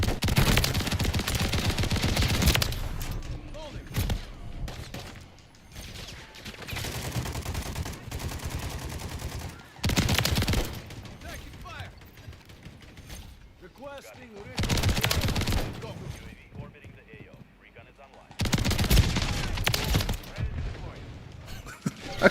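Shotgun and automatic gunfire in Call of Duty: Modern Warfare III, loud close bursts of blasts and rapid shots that repeatedly start and stop, with quieter gaps between volleys and some game voice lines.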